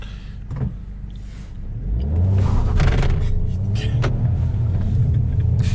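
A car pulls away once the handbrake is released, a low engine rumble that rises and holds steady up close after a few brief clicks and knocks.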